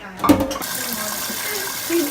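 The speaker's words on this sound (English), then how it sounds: "Let's let the water out." Water pours out of a cooking pot into a sink during pho preparation, a brief splashing rush at the start that settles into a steady draining hiss.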